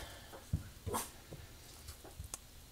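A dog whines softly and lets out a few short yips, faint and intermittent against a quiet room.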